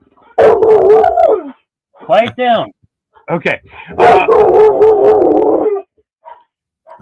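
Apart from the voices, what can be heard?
dog barking and howling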